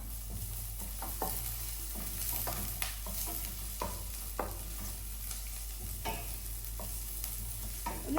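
Chopped ginger and onion fry in a pan for wheat rava upma, a steady sizzle running throughout with scattered stirring clicks and scrapes close by, no voices.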